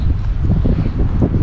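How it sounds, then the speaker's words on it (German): Strong storm gusts while cycling along a Rhine dike batter the microphone with heavy, low rumbling wind noise that buffets continuously at close range, with no talking. "Der Wind, also der Sturm, es ist Sturm."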